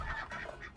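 Ducks quacking in a Doctor Who scene, brief nasal honking calls under a dense, muffled soundtrack bed.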